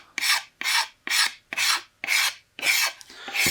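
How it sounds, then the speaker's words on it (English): Scraper drawn along the wooden stock of a Traditions St. Louis Hawken rifle in seven even rasping strokes, each a close, dry scrape followed by a brief pause, with no talking. "going to take the scraper along there"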